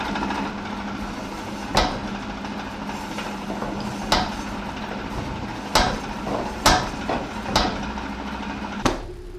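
A repaired blacksmith's power hammer running on new V-belts, its motor humming steadily while sharp metallic blows strike at uneven intervals, about seven distinct hits standing out loudly over the constant drone.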